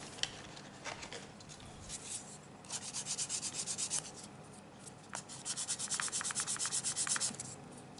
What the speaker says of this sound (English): the actual decks are pretty easy to sand